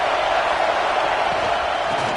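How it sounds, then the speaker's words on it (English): Stadium crowd at a football game roaring in a dense, continuous wall of cheering, loud and even throughout with no pauses. "This crowd bringing the energy and noise early."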